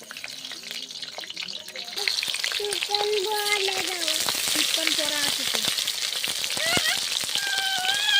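New potatoes fry in a smoking pan, starting as a quieter sizzle that swells around two seconds into a dense, bubbling crackle that holds steady to the end, with no voices.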